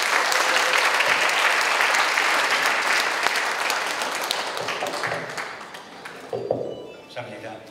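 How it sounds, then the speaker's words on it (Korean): Seminar audience at a Baptist theological school alumni festival breaks into dense, loud applause to welcome a speaker, the clapping holding strong for several seconds before thinning out, with a few scattered claps and a voice near the end. "우리 뜨겁게 환영으로 박수해 주시면 감사하겠습니다"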